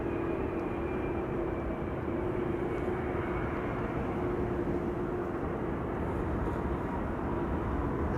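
An Icelandair Boeing 767 taxis to the runway at Amsterdam Schiphol, a steady distant jet engine roar with a sustained whine, constant in loudness throughout.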